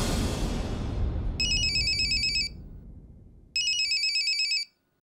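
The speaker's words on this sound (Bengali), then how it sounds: "অনামিকা ডাক্তার আবার কেন ফোন করছে আমায়?" A mobile phone rings for an incoming call: two loud, bright ringtone bursts separated by a short gap, over a fading low rumble, with no talking.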